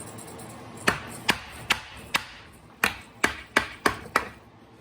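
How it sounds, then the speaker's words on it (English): A dead blow hammer knocks a part off a Toyota 4x4 solid front axle during a birfield teardown: about nine sharp, close knocks at uneven intervals over a quiet background. "This happens to be a dead blow."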